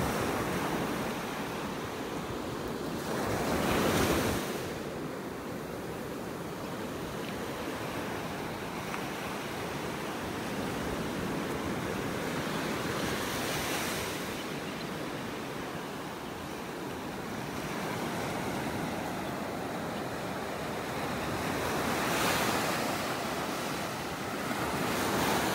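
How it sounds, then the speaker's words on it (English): Ocean waves break on a beach in North Naples, Florida on a dreary morning, a continuous washing roar that swells into louder crashes every several seconds, with wind buffeting the microphone. "Love the sounds of those waves."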